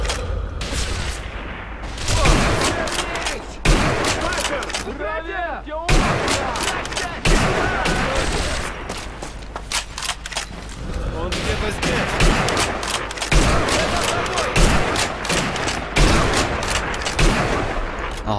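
Rifle shots and combat noise in Sniper Elite V2, with sharp cracks and heavier bursts scattered throughout and someone talking between them.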